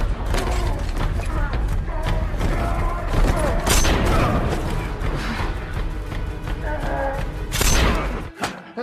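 Gunfire bursts out in a film heist shootout, with repeated loud shots, booms and thuds over a dense soundtrack, peaking in heavy blasts midway and near the end.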